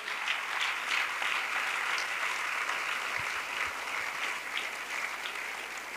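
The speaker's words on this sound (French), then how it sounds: "Let us clap and loud." A big audience at an evangelistic crusade claps loudly and continuously, a thick even wash of applause that holds its level throughout with no voices over it.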